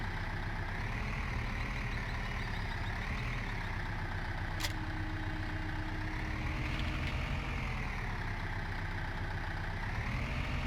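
In a farming simulator game, a tractor engine drones steadily as it strains under load, loud and continuous throughout with a slight rise and fall in pitch, plus a couple of brief sharp ticks.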